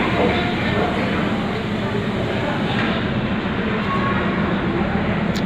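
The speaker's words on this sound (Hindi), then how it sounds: "प्लेटफॉर्म नंबर 1 से ये ट्रेन जा रही है" Darjeeling Himalayan Railway toy train at the station, a steady broadband rumble and hiss running throughout at close range, with a busy crowd murmur underneath.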